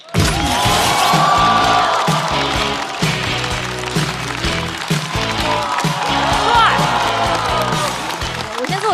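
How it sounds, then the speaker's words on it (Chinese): Studio audience at a Chinese stand-up comedy show applauds and cheers loudly for a comedian taking the stage, a dense, sustained wash of clapping with music underneath throughout. "掌声有请李奇宝"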